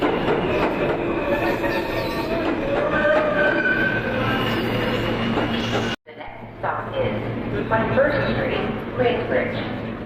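An underground metro train pulls into a station about 200 feet below ground, a loud, steady rumble of wheels and carriages with faint metallic squeals, briefly dropping out midway before the rolling roar resumes, with voices murmuring in the background.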